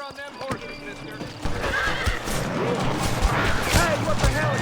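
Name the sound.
horses neighing in video game Red Dead Redemption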